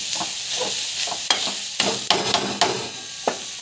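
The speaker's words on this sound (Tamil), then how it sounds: "உப்பு ஆட் பண்ண பிறகு நல்லா வந்து வதக்கிடலாம்" Beetroot sautéing in a pan with asafoetida and salt, a moderate sizzle broken by repeated spatula stirs and scrapes that come in irregular clusters, close and fairly loud.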